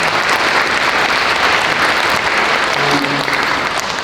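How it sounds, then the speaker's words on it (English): A large audience at a school district band concert claps loudly and steadily, dense applause filling the hall for several seconds with a few faint voices underneath. "Can we give them a round of applause?"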